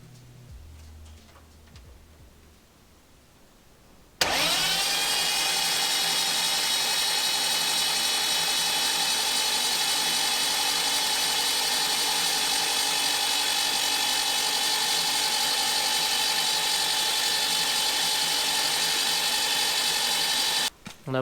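A BMW E46 3.0 turbo drift car's engine turns over on the starter motor, a loud steady whirring drone that kicks in abruptly after a quiet stretch and runs unbroken for about sixteen seconds before cutting off.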